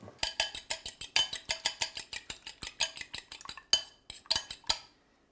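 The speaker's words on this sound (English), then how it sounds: "we're gonna get 1 egg and just beat that a little bit" A single egg beaten in a bowl with a utensil: a steady run of sharp, rhythmic clinks and taps against the bowl, close and clear, with no talking.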